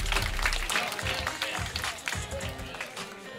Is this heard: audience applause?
yes